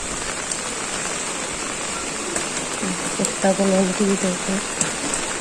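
Steady rain falls throughout on a rural roadside with paddy fields and mango trees during monsoon, a continuous near hiss with voices talking over it toward the end.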